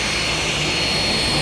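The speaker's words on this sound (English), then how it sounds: "Turn on the dust collection." A woodshop dust collector runs at full power, a loud, steady broadband roar with no breaks or talk.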